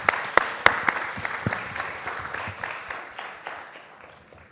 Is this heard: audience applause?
yes